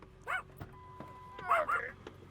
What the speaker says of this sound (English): I don't know why Cherish is barking.